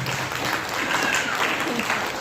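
Brief audience clapping at an Arya Samaj gathering, a dense, steady patter of many hands at moderate loudness with faint voices mixed in.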